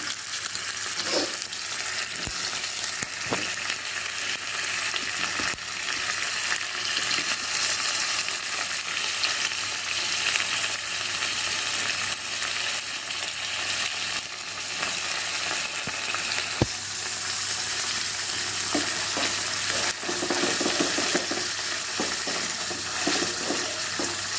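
Paneer cubes frying in a hot pan, a steady, dense sizzling, continuous and close throughout, with occasional light clicks and stirring scrapes.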